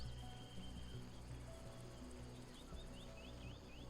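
Insects chirp steadily in the alien wilderness of the survival game Stranded: Alien Dawn, a continuous cricket-like trill with faint repeated high calls layered over a low ambient game bed.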